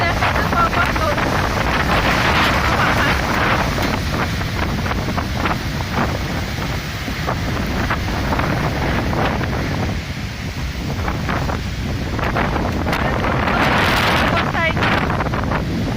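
Strong storm wind roars steadily and loudly, buffeting the microphone with gusts that swell and ease, and a faint voice now and then beneath it.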